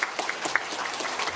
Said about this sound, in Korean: 설교 중에 오래 수고하셨으니까 박수 한번 쳐주십시오.